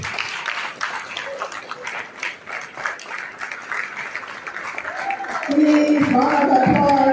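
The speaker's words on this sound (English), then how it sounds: "Please, round of applause. Please, let's keep clapping." Audience applause at a Liberian young professionals' graduation and anniversary ceremony, welcoming former President Ellen Johnson Sirleaf; a continuous crowd clapping runs throughout, with a voice speaking over it and music swelling in near the end.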